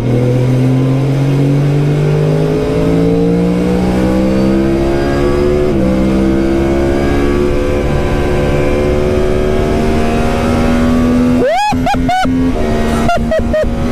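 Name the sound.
Formula 4 race car engine driving on circuit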